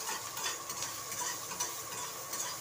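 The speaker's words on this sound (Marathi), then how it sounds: "लसणाच्या पाकळ्या आणि हे भाजून घ्यायचं" Garlic cloves roasting in a pan with cashews already removed, a soft continuous sizzle with light scraping stirs, fairly quiet and close, no talking.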